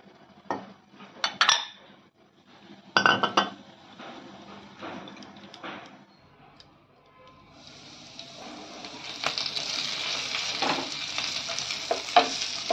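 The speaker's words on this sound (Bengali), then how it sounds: "পেঁয়াজটা মোটামুটি ভাজা হয়ে গেছে" Onions frying in a pan for a Bengali prawn curry, with sharp clinks of a utensil stirring against the pan. Later a bright, steady sizzle rises and continues close and loud.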